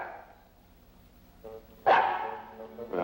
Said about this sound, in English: there's your dog anyhow. You better call him.